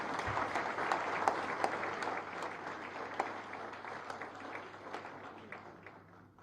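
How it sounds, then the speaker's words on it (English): Audience applause at a national workshop, a steady, moderately faint round of clapping from a room of people with individual sharp claps standing out, tapering off at the end. "You all deserve a round of applause for yourselves."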